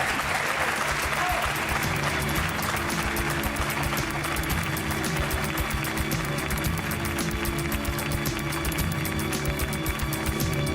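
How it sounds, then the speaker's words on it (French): An audience applauds loudly with dense, steady clapping that fills the whole stretch without a break. "On vous applaudit fort"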